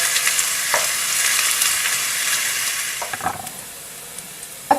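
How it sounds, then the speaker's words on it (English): Onions softening in olive oil in a hot skillet, giving a steady close-up sizzle that thins out toward the end. A few stirring scrapes and clinks are heard, with no one speaking. "We're going to cook our onions for a couple minutes."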